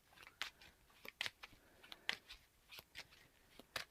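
Playing cards being shuffled during a Marvel card game, a quick series of soft crisp riffles and snaps repeating irregularly, close and fairly quiet, with no talking.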